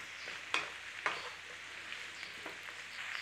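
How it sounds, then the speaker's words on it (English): Potatoes and swede stir-fry in a pan for a traditional Cornish raw fry with bacon, giving a faint, steady sizzling hiss with two sharp utensil clicks early on and softer scrapes later. "we're going to stir fry it for about 5 minutes in there to start softening it up."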